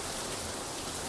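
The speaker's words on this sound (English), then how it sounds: "Enjoying the rain." Steady rain falls outside a home, a dense, continuous hiss that fills the whole moment without pause, fairly loud and close, with no voices over it.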